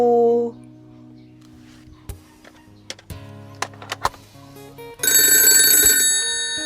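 A telephone rings with an incoming call, its bright electronic ring tone loud and steady over the last second and a half, after quiet stretches broken by a few soft knocks and clicks.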